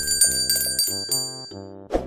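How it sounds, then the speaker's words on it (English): A bell sound effect rings with a bright, metallic bicycle-bell ding, struck several times in quick succession with sustained overtones, then closes on a short soft thud. "Also don't forget to ring that bell."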